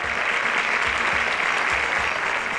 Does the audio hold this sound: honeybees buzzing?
no